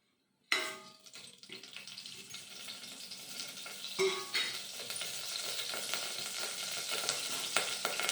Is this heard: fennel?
yes